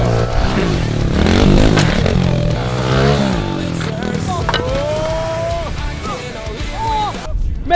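Motocross motorcycle revving and jumping in a high-jump contest against an electric bike, engine roaring and rising in pitch, a clattering landing, with excited voices talking over it throughout.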